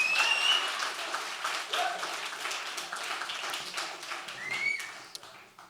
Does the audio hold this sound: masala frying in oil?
no